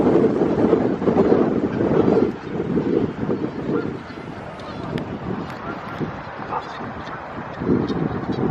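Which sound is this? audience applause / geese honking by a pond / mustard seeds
geese honking by a pond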